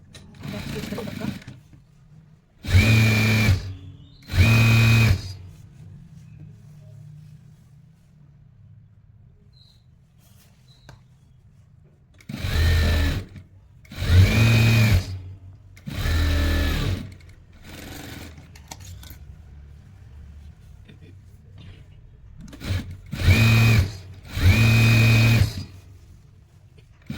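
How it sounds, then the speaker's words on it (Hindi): A sewing machine back-stitches a sleeve seam on a men's winter T-shirt warmer, running in short loud bursts of whirring with quiet gaps between them, close by. Faint speech can be heard in the background. "जो सिलाई हमने लगाई हुई है वहां पे सिलाई लगाएंगे बैक स्टिच करके पक्का"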